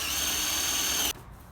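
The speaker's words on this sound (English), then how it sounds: "25mm spade drill piece" A 25mm spade bit drills a drain hole into a garden planter, a loud steady whine that runs for about a second, then cuts off abruptly as the drill stops.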